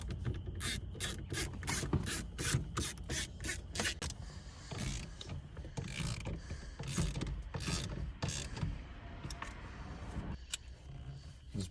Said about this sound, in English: So we'll grab some Torx bits and pull that out.